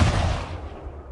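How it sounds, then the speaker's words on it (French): A single gunshot sound effect cracks sharply and loudly, then its echo fades over about a second, alone with no talking. "Il y a eu un coup de feu et Amélia était morte, le tout en 1 seconde à peine."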